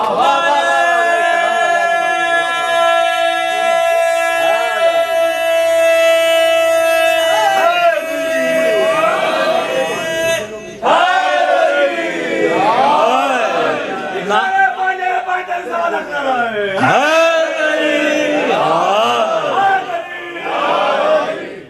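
A loud crowd of worshippers chants religious slogans together at a Jashan-e-Ghadeer gathering at Dar e Abbas, Houston, with voices rising and falling in sustained, overlapping calls.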